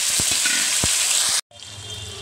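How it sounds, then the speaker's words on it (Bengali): Boiled potatoes frying in hot oil with asafoetida and whole spices, a loud close sizzle with a couple of stirring knocks, then a brief cut and a quieter, continuing sizzle. "আলুগুলো এবার ভেজে নিচ্ছি, হিং তেলের মধ্যে দিয়ে দিয়েছি"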